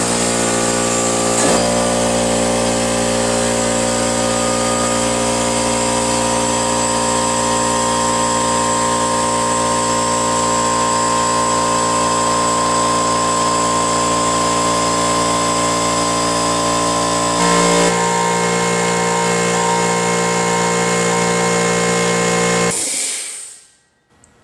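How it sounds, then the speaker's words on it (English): A Makita air compressor runs steadily, close and loud, filling its tank with a constant motor drone and a strong tonal hum, with a brief shift partway through before it cuts off near the end. "I'll just fire it up and let it fill itself up with air"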